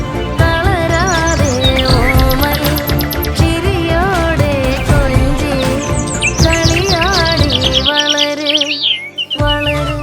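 Birds chirp in a tree as a mother feeds its chick, loud, close and busy tweeting with overlapping high calls and bright trills running throughout.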